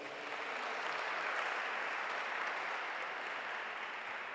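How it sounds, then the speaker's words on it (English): Attendees at a public hearing on the Basic Education Laws Amendment Bill in Johannesburg give a sustained round of applause, an even wash of many hands, distant and fairly soft, with no voices. "let's give ourselves a round of applause."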